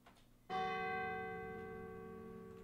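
Synthesized bell track played back in an orchestral and choir mix, a single loud bright strike with layered ringing overtones that sustains and slowly decays over a faint low hum.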